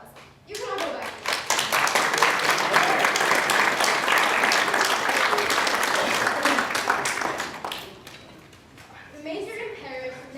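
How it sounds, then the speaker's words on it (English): A room full of people applauds volunteers, loud dense clapping that swells quickly and holds for several seconds before tapering off, with voices rising as it fades. "Let's give our volunteers a nice round of applause."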